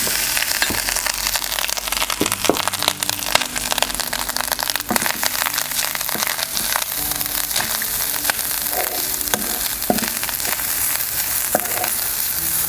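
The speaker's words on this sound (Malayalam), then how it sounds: "ഇനി നമ്മൾ ഈ എണ്ണയിലേക്ക് തന്നെ നമ്മൾ തേങ്ങയൊന്ന് ഫ്രൈ ചെയ്തെടുക്കണം" Grated coconut and ginger fry in oil for chammanthi with a loud, dense crackling sizzle throughout, dotted with scraping and knocking from stirring, up close and without talk.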